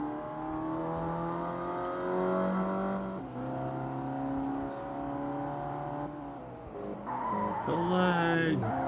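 Assoluto drift car at Sportsland Yamanashi circuit, engine revving hard with sustained, loud tire squeal as it slides, rising in pitch toward the end.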